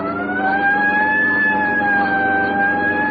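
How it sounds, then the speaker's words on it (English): A police siren wails continuously at close range in a radio drama, a steady sustained tone with a low engine rumble underneath. "Right, I'll hit the siren."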